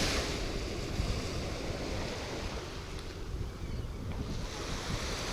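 Soft ocean waves wash onto the sand of a Florida Gulf Coast beach in a continuous, rushing surf, heavily mixed with gusty wind buffeting the microphone.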